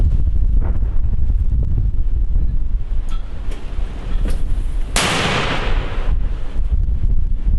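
Outdoors in strong wind, a sharp loud broadband blast bursts out as a frontline mortar fires two rounds, with gusty rumble continuing around it.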